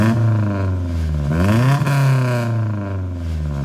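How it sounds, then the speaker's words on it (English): Nissan D21 mini truck with a new exhaust and straight intake revs up close, a deep droning engine note rising in pitch through a quick rev and settling back to a rumbling idle. "Okay, so I'm gonna let you guys hear the exhaust real quick."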